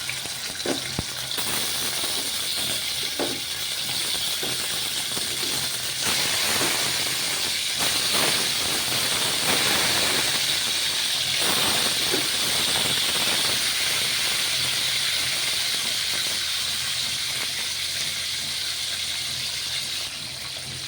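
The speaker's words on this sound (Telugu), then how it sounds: "చేపలు వేద్దామండి ఆయిల్ వేడేయండి కొంచెం మీడియం ఫ్లేమ్లో పెట్టుకొని" Pieces of salted fish frying in hot oil over a medium flame sizzle and hiss loudly and steadily, close up, with no one speaking.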